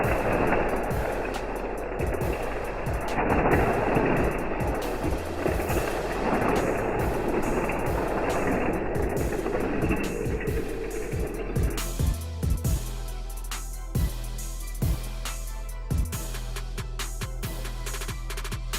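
Hot Wheels toy trucks, including a custom Volkswagen Hauler and Fuel and Fire, racing on a double triple loop plastic track: a steady rolling rumble with rapid clicking over track joints, then lighter scattered clicks, close and continuous.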